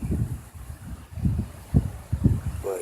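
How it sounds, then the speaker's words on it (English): Wind gusting outdoors ahead of Hurricane Matthew, a low rumbling buffet of microphone wind noise rising and falling in uneven bursts, loudest in several strong gusts near the end. "Wind picking up though."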